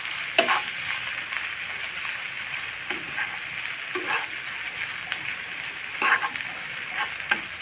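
Spice paste frying on a tawa for tawa chicken, a steady soft sizzle broken by several scraping stirs of a spatula at irregular intervals.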